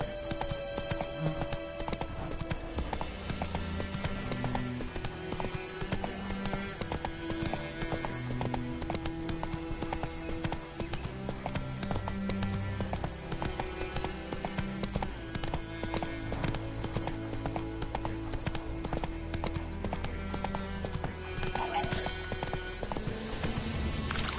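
Horse hooves in The Witcher 3 clip-clop steadily through a long gallop, with an occasional whinny, over a constant game music bed; no talk.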